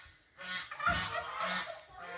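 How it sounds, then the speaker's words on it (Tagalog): Geese honk near a mountain farm at sunrise, with several loud nasal calls in quick succession, an uneven burst of overlapping honks against a quiet background. "It's noisy, the gansa,"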